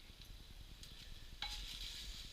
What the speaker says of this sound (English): We have the cabbage in. We're starting to stir it up.